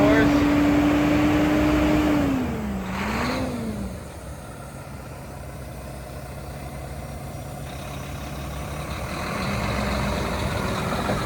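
A 2011 Mack CXU613 flatbed truck with tandem drive axles runs its engine to build air pressure, a steady diesel rumble with a rising and falling tone early on, someone talking over it at times.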